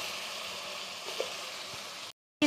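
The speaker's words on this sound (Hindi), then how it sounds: "5 मिनट तक हमने आलू और बैंगन को अच्छी तरह फ्राई कर लेना।" Potato and eggplant pieces frying in a pan, a steady soft sizzle with a faint crackle, continuous and close before cutting off briefly near the end.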